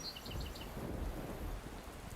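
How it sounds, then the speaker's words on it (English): Steady rain patters beneath a low, rolling rumble of thunder, with a few faint bird chirps at the start. "Then it started to rain."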